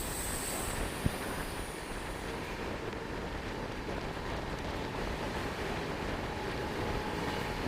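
The KSR Bengaluru–Arsikere passenger train runs through Tiptur railway station without stopping, heard from on board as a steady, loud broadband rumble and rush with a brief click near the start. No voices.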